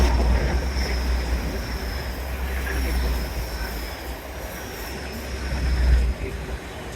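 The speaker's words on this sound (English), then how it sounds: "But it's another train." A continuous low rumble of a train rolling past at a distance in Teignmouth, mixed with wind and a faint high whine, steady throughout.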